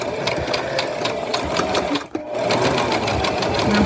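A sewing machine stitches a fabric doll, a steady close rapid mechanical whir with rhythmic needle clatter that briefly pauses, then resumes.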